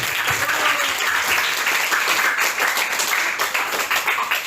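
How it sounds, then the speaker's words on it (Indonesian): Lively applause from an audience at a national insight and global diversity session, dense and loud, many hands clapping continuously without any voices. "tepuk tangan yang meriah untuk kita"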